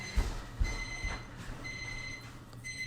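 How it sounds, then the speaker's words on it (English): A kitchen timer for bread-making beeps in repeated short bursts of high steady tones, with a few soft knocks and bumps in the background. "that's the timer for my bread"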